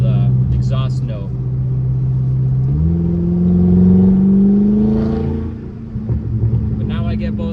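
A BMW F10 M5 with Turner muffler deletes sends out a loud, deep exhaust and induction drone that rises in pitch as the revs climb, then drops away, with someone talking over parts of it.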